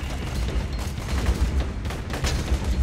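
In Borderlands 2, a modded grenade sets off a dense, rumbling burst of explosive blasts and crackling booms that stays loud and continuous for several seconds, with no talking.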